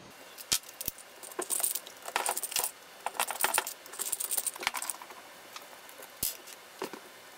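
Hand rummaging through a container of small metal Torx bits, producing scattered light clinks, rattles and jingling taps in irregular bursts, close and fairly quiet, with no speech.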